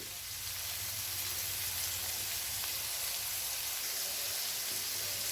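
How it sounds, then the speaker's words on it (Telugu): Meal maker soya chunks frying in a pan on the stove, browning like chicken, a soft continuous sizzle with a faint low rumble underneath and no talking. "ఇదంతా కూడా చక్కగా చికెన్ లాగా ఎర్రగా వేగాలి."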